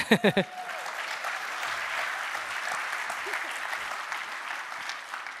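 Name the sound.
audience applause at a conference keynote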